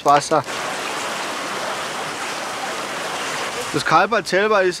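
Spring water runs through a gully system and drains into bath basins, making a steady, hissing rush that is loud and close, with a person talking briefly before and after it.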